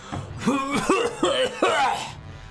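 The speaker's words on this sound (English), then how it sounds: "the dragon tries to cough up all of this awful phlegm" Someone coughs four times in a row, loud and close, each cough rough and throaty with a short gap between.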